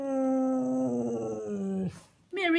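A Siberian husky howls and 'talks' in a long wavering vocal tone that slides downward, breaks off briefly, then returns with a rising yelp-like whine, close and loud.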